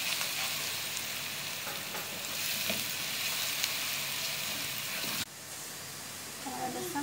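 Garlic and ginger paste sizzles and fries steadily in a pan with onion, a continuous close hiss that drops briefly near the end before stirring clinks resume.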